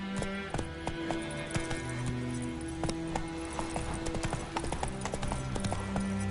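Hooves of Roach, a horse in The Witcher 3 video game, clip-clop in a steady walking rhythm over a soft game soundtrack, close and clear, with a brief snort or whinny hint.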